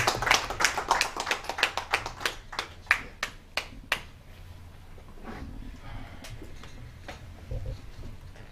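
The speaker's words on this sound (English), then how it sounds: "Please give him a round of applause." A small audience at a podium address gives brief, close applause that starts in a burst of sharp claps, thins to a few scattered ones within about four seconds and leaves quiet room noise.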